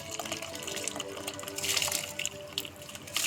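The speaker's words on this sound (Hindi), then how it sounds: "अब हम इसमें 750 ग्राम चावल यानी कि 3 ग्लास चावल ऐड कर लेंगे।" Rice is poured into a pot of boiling water for chicken dum biryani, giving a continuous rushing, bubbling watery hiss that swells in bursts, with no speech.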